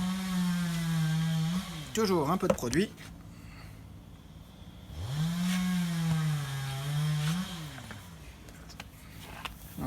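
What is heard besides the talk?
chainsaw running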